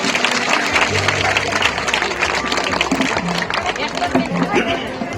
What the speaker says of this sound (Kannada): ಜೋರ ಚಪ್ಪಾಳೆ ಹೊಡಿಬೇಕು